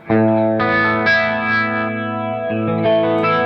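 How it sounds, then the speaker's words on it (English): Sustained guitar chords through a Dimension C chorus effect unit on setting 1, with reverb, lush and wavering, played loud and ringing, with a few re-strummed changes. "it comes out very chorusy on guitar"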